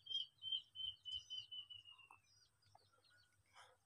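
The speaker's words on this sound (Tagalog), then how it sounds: "Water hen mga kagiliw." A water hen calls near a rice paddy, giving a faint, thin, high whistling call with a few short chirps, quiet and fairly distant against a still background.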